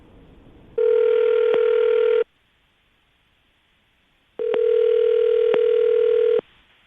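Two long, steady telephone tones on a call line, each about a second and a half, separated by a pause, loud and clear with no talking over them — ringback as a call is placed.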